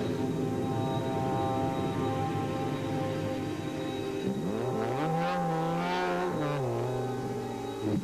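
A BP Ultimate VW Polo rally car races, its engine droning steadily before climbing through rising and falling revs as it accelerates and shifts, loud and close with a buzzing tonal whine.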